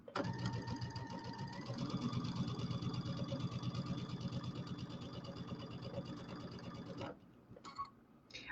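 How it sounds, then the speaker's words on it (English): A sewing machine stitches quilt table topper pieces in a rapid, steady mechanical chatter for about seven seconds, close and even, then stops with a few brief clicks after. "I take a couple slow stitches before I take off when I'm in a corner like that"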